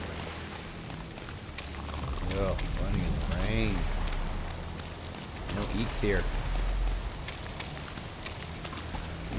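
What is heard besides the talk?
rain in the video game Valheim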